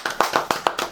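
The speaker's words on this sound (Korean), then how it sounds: "박수" Two people clap in a quiet studio, a short run of about six crisp, close claps in steady rhythm.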